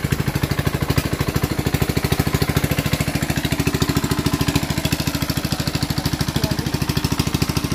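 A newly installed submersible water pump machine runs with a fast, regular mechanical thumping pulse, steady and fairly loud from start to finish, with no voices.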